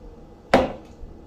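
Frozen fruit mix dropped into a bowl, one sharp hard clunk at close range, standing alone against a quiet background.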